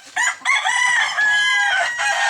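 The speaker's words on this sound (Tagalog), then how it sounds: "Matitibay talagang mga manok nila dito." Several roosters crowing one after another on a farm in the Philippine countryside, loud, bright and close, with overlapping calls filling the whole stretch and no talking.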